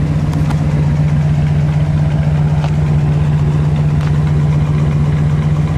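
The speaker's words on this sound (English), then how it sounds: "Let me listen to the exhaust note." A 1967 Chrysler Town & Country station wagon idles with a steady, burbling exhaust note, a loud, even low throb held close and continuous throughout without talk.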